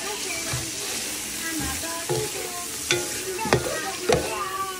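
Shrimp frying in a pan for a squash and string bean coconut stew, with a steady sizzle and a few louder scraping stirs near the end.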